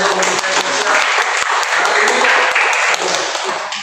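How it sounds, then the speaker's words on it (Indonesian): Congregation at an apartment worship service claps enthusiastically for the community, a loud, full burst of applause lasting a few seconds with a few sharp claps standing out and voices faintly underneath. "mari sekali lagi tepuk tangan yang paling mulia untuk komunitas"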